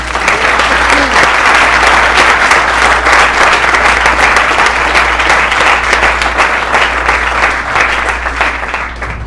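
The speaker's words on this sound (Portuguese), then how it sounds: "Vamos aplaudir o Senhor." A worship service congregation bursts into loud, sustained applause, a dense roar of many hands clapping close by that stays full for nearly ten seconds before easing slightly at the end.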